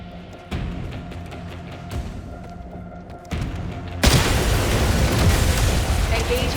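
Explosions from shot pipes in the video game 007 First Light, heard as a rumbling blast that builds in stages and then breaks into a loud, sustained roar that fills the end.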